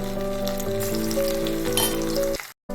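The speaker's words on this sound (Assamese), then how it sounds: "এতিয়া মই যিখিনি কিউব শ্বেপত কাটি লৈছোঁ পনীৰ, এইখিনি এতিয়া মই ভাজি লৈছোঁ।" Paneer cubes frying in hot oil in a kadai produce a loud, close, continuous sizzle for a couple of seconds before cutting off abruptly.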